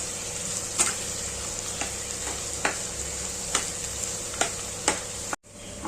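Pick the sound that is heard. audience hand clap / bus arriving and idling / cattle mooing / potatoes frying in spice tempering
potatoes frying in spice tempering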